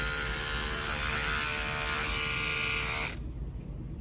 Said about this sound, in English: an electric toothbrush is really nice